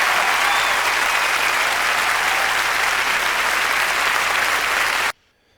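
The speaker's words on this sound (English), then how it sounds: "standing ovation is right." An audience on its feet in a standing ovation after a performance: loud, dense, continuous clapping with faint crowd cheering mixed in, holding steady for about five seconds before cutting off abruptly.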